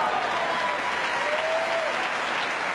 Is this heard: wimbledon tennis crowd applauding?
yes